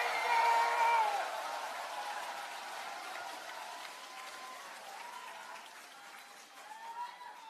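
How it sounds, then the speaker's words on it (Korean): Audience at a Korean party New Year's gathering of the People Power Party's South Chungcheong chapter applauds steadily, loudest at the start and easing off, with faint voices and tonal sounds mixed in the crowd noise. "국민의힘 한동훈 비상대책위원장께 다시 한번 힘찬 박수 부탁드리겠습니다"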